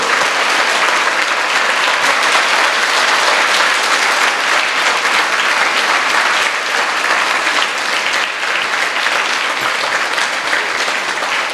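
Sustained, loud applause from a large student audience at a campus motivational speech, clapping for their parents in one thick, unbroken wash of sound that runs throughout.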